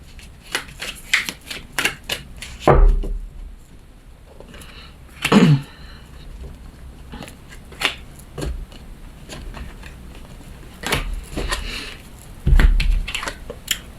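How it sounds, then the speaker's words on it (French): Tarot cards handled and laid over one another, with papery flicks, slides and soft shuffling taps, several sharper card snaps among them, close to the listener and without speech. "On va recouvrir ces cartes."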